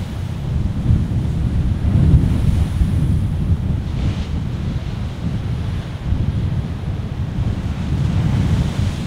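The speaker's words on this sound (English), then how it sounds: "And then suddenly the waves are different." Ocean waves and surf rolling in where a river meets the sea, a steady loud wash of breaking water with wind buffeting the microphone throughout and no voices.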